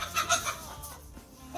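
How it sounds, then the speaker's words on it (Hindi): Aseel chickens clucking close by, a few short throaty clucks bunched at the start, then quieter scattered calls. "और ये बड़ी मुर्गी है।"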